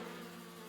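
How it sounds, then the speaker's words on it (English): Cartoon bees swarming around a hive in a tree, a faint steady insect buzz with a low droning hum, brief and continuous, no voices. "All those bees."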